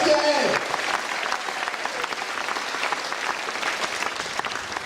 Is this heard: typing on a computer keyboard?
no